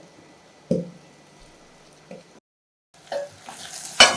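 Goat intestine and blood frying in a pan, heard as a steady low sizzle broken by a few sharp stirring scrapes and clatters, with a short silent gap midway and no talking.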